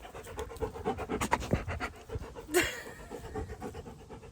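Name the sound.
dog panting near camera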